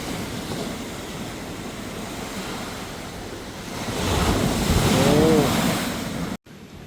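Steady roar of sea waves washing in close by up to steps, swelling louder midway, with wind noise over the microphone, on Saint Martin's Island, Bangladesh.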